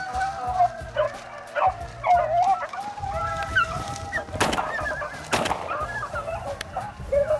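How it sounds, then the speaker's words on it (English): Hunting dogs bark and yip in bursts while chasing a rabbit through brush during a rabbit hunt, the calls fairly close and repeated, with a couple of sharp louder sounds near the middle. "those dogs are trying to push him"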